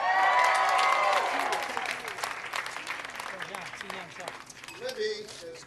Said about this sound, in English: everybody give Libby a big round of applause